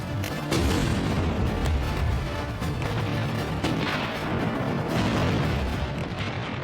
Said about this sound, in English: The Bismarck and Hood engage in heavy gunfire.